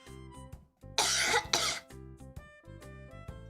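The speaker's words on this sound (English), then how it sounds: "And I have to cough for some reason." One person coughs twice in quick, harsh bursts, close and loud, with a faint voice around it.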